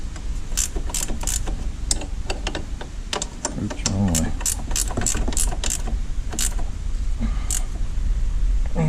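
A ratchet wrench tightens a bolt on the A-arm of a 2006 Yamaha Kodiak 450 ATV during rear CV axle work, giving steady repeated clicking strokes close up, continuous through the clip with some faint background noise.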